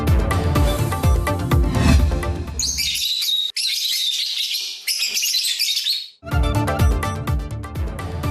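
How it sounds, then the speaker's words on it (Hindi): Lovebirds and parrots at an annual lovebird fair in Lahore give a dense burst of high chirping and tweeting for about three seconds, set between louder stretches of music. "और लाहौर में सजा लव बर्ड्स का छठा सालाना मेला। सब्ज, नारंगी, पीले, नीले, सफेद रंग के तोते तवज्जो का मरकज।"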